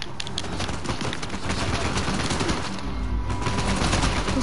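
Rapid gunfire in Uncharted 4, dense overlapping shots and bursts rattling continuously at close range, loud and unbroken.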